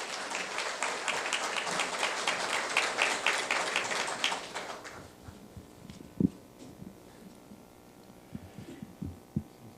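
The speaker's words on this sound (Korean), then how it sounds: "여러분 큰 박수로 환영해 주시기 바랍니다" Audience applause at a Bank of Korea Busan headquarters relocation ceremony, welcoming the governor to the podium; steady dense clapping for about five seconds, then fading to scattered thumps and quiet room noise.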